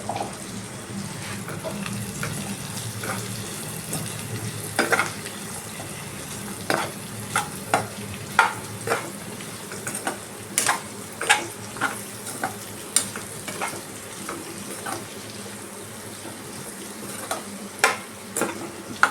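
Potatoes and spices for aloo dum fry in a pan with a continuous sizzle. Sharp clicks and scrapes from stirring break through close by, growing more frequent in the second half.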